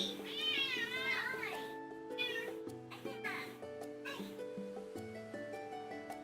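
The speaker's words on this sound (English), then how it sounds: "Why are you meowing away, Giga?" A domestic cat meows loudly and close by in several drawn-out, wavering cries, over soft background music.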